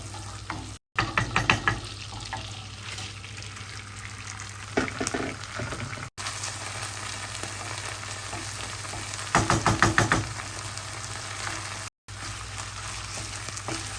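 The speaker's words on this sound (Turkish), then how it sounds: "Bunu iyice kavurmamız gerekiyor arkadaşlar" Rice sizzles and fries in butter and vegetable oil in a pot for Turkish pilaf, with a steady close crackle and occasional bursts of stirring scrapes, and no talking.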